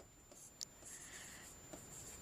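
Handwriting on a board during a Sanskrit lesson, giving faint scratchy strokes with a couple of light taps, quiet and close, and no talk.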